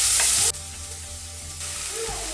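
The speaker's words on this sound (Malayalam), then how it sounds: "ഈ സവാള കൂടി ഇട്ട് വഴറ്റിയെടുക്കാം" Onion goes into a pan of cumin for a vegetable samosa filling: a loud hiss cuts off sharply, then a softer steady sauté continues with brief stirring scrapes, no one talking.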